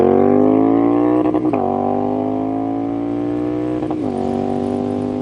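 Triumph Street Scrambler 900 motorcycle revved hard, its loud engine tone climbing and twice slamming into the rev limiter with a stuttering bounce, heard up close with no voices.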